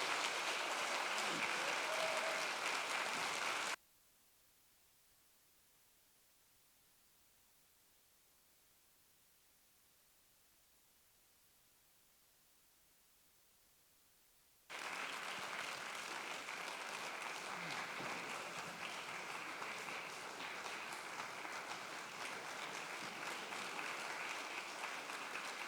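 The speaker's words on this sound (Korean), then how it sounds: "다시 한번 Y싱어즈를 뜨거운 박수로" Warm applause from a concert hall audience welcomes the Y Singers, a dense wash of clapping that drops to near silence for several seconds, then returns just as full and steady.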